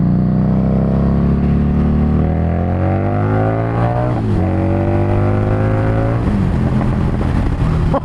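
A Harley-Davidson Street Rod 750 motorcycle with its exhaust baffle removed growls loudly and steadily up close, the engine note rising and falling through several revs before settling into a deep, continuous drone.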